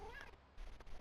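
A pet cat named Tiger gives a brief, fairly close meow that rises and falls within a second, heard alone against quiet room noise.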